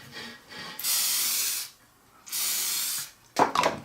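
Cooking spray hisses from an aerosol can onto a cake pan being greased for a lemon cake, two long bursts followed by a short rattle, close and clear with no talking.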